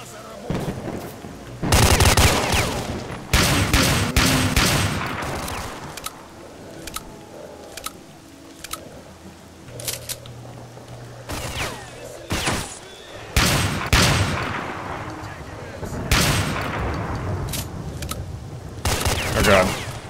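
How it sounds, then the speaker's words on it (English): Gunfire in STALKER: Shadow of Chernobyl, including sniper shots, comes as loud, sharp bursts and volleys scattered across twenty seconds. Quieter ambient game sounds fill the gaps, and speech is occasionally heard. "he's fucking firing right through the fucking tree"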